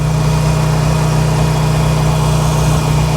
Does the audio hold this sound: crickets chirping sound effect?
no